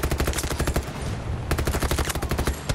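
A mounted gun fires in Battlefield 2042 on a Bad Company 2 style map. It lets off two long automatic bursts of loud, close, evenly spaced shots, with a short gap between them.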